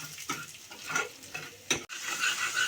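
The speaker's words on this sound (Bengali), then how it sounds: "মশলাটা ভাজা করে নিচ্ছি।" Spice masala for Bengali-style ghugni, with turmeric and salt, fries in a pan as a spoon stirs it, with bursts of sizzling, scraping strokes and a soft clack partway through.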